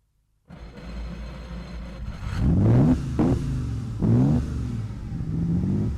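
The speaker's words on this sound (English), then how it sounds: "Give a couple of prods to the accelerator, and the red light button is the starter" A 1950 Ferrari 166MM Le Mans Berlinetta engine cranks and fires, then revs in several sharp blips that rise and fall, loud and close after a brief silent start.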